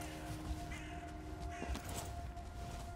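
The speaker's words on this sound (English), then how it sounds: "Oh, some more birds." Vultures call in the volcanic Ashlands of the video game Valheim, harsh cawing cries over a dense, steady game ambience with a sustained drone, fairly loud and close, no talk.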